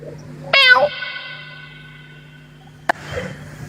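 A cat gives one clear, drawn-out meow close by, rising sharply and then sliding down in pitch, over a faint steady hum, followed by a brief click and soft rustling.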